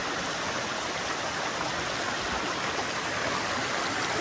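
A creek on the Matilija Falls Trail in Los Padres National Forest rushes and burbles in a steady, unbroken wash of flowing water, close and fairly loud, with no voices.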